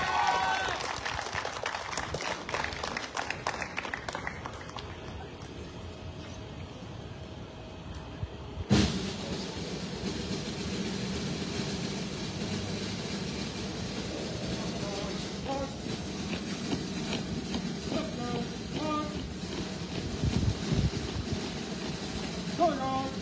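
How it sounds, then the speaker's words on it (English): An outdoor crowd at a Relay for Life opening ceremony gives a long, steady round of applause for a Tombstone High School JROTC color guard, with a sharp clatter partway through and wind-like noise throughout. "Can you please give a warm round of applause to our very own Tombstone High School JROTC presenting today's colors."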